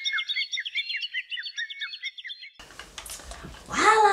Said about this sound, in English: Damn bird won't let me sleep.